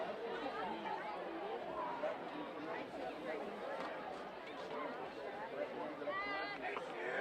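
Murmuring spectators at a Friday night high school football game between Grafton and Northbridge, a small crowd's loose chatter and scattered voices spread evenly across the stretch, with nearby talk mixed in.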